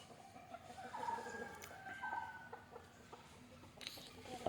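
Free-range country chickens cluck and call softly at a distance, one perched up in a guava tree, a few short bursts over a quiet outdoor background.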